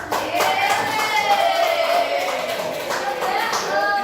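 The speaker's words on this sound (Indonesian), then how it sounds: "Kasih tepuk tangan." An audience claps during a teachers' training session in Semarang, a continuous patter of hands that stays loud and close, while a voice carries on over the clapping throughout.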